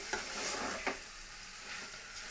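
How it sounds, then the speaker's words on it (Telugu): A spoon stirs naatu kodi chicken curry in a pan, mixing it over a steady sizzle of frying. A couple of soft scrapes sound close up, with no talking. "ఇలా బాగా దీనిలో కలుపుకోవాలండి"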